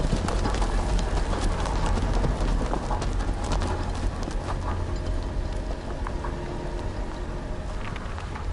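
Horse hooves clip-clopping in the Game of Thrones video game, a steady patter of hoofbeats mixed into a dense bed of rain-like noise, continuous throughout without speech.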